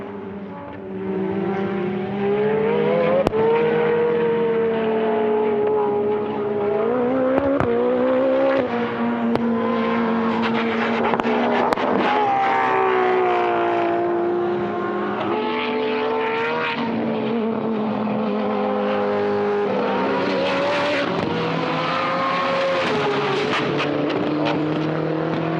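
Time attack race cars, the Extreme GTR and the Evo, on a flying lap at the World Time Attack Challenge: loud, sustained engine howl rising and falling through gear changes as the cars speed around the circuit.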